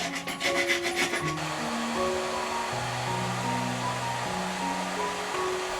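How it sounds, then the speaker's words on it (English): A few rasp strokes on a cut pipe end, filing out a hole in a mast pipe for gluing, come as a quick rhythmic scraping burst in the opening second, followed by steady faint hum and tonal background. "A few strokes with the rasp to prepare the hole for the gluing."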